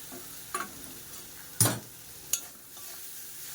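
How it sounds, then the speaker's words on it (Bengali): A turmeric mixture for sour dal with mango is stirred and fried in a pan: a low, soft sizzle broken by three distinct scraping strokes of the spoon, the middle one loudest, with no talking. "এটাকে আর একটু নাড়াচাড়া করে একটু ভেজে নেবো"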